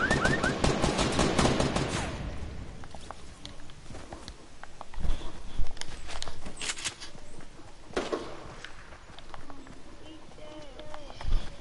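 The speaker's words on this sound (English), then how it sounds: "I'm getting shot in the back." Gunfire in the video game Fortnite: a rapid burst of shots at the start, then scattered single cracks and thuds spread across the rest, with someone talking over the action.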